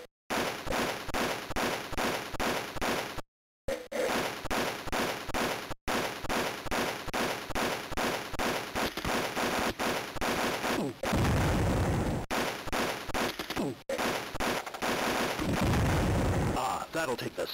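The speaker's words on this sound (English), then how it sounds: "An auto rifle." An auto rifle fires in the Game Boy Color game Army Men. Rapid, evenly spaced shots form a loud, steady rhythm, broken by a few brief pauses and a noisier burst near the end.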